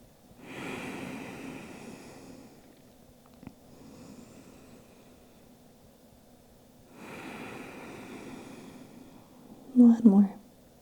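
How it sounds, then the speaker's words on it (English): Slow, deep yoga breaths during a cool-down, two long audible exhales drawn out several seconds each with a quiet gap between, ending in a brief louder rustle. "So let's take 3 breaths here."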